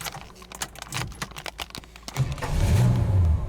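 Clicking and tapping give way to a 1966 Pontiac GTO engine cranking and catching, settling into a low, rumbling idle close by.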